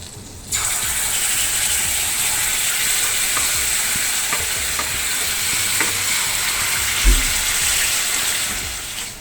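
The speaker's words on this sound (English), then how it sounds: "Cook the marinade for a bit till it comes to little darker color and all the ingredients get cooked." Jerk chicken marinade with barbecue sauce and butter hits a hot pan and sizzles loudly and steadily from the first half second, with a few faint stirring clinks and a soft knock near the end.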